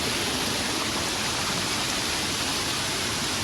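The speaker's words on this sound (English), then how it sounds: "at the waterfall," A waterfall near Kaapsehoop pours in a constant, dense rush of falling water, steady and fairly close, with no voices over it.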